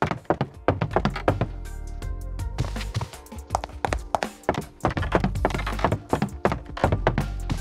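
Footsteps from a video game built with Wwise and Unity, walking on a wooden floor: a steady run of close, hollow thunks repeating at a walking pace, heard alone with no talk.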